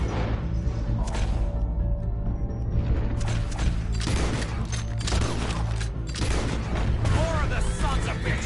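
Carbine repeater fire in Red Dead Redemption 2, the weak but fast-reloading lever rifles, heard as a dense run of loud overlapping gunshots and booming impacts that keep going throughout, with short pauses between flurries.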